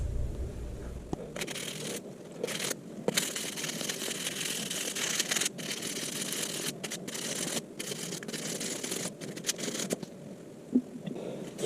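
The blade of an old hunting knife is hand-sanded in steady, gritty back-and-forth scraping strokes, with brief pauses between runs, close and continuous with no talking.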